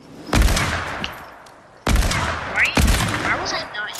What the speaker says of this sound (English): Why was I not using the hunting rifle?